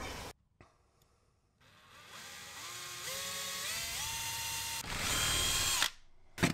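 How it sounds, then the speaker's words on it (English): Power drill boring holes through the inside corners of a pet door outline, a steady close whine that rises in pitch in steps as the bit speeds up, with a brief short burst first and a louder final push before stopping. "I'm going to drill a hole on the inside of each corner, big enough to allow my jigsaw blade to get in there and cut"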